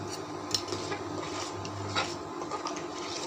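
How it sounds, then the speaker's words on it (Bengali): Dal in a pot is stirred with a utensil, giving soft, continuous scraping and light clinks of metal against the pot over a low steady hum, fairly close and quiet. "নেড়ে দিলাম"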